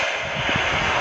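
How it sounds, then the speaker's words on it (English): SpaceX Falcon 9 first-stage Merlin engines roar during a crewed launch to orbit, a loud, steady, broadband rumble without any talk. "We heard we're throttling down the Merlin engines on the first stage."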